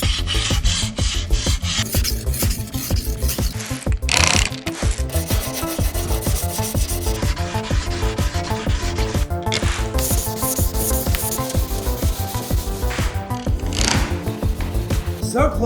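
A knife blade pressed against a rotary platen grinder gives a loud, continuous abrasive grinding with a rough scraping texture. The grinding rises and falls slightly as the blade moves across the platen.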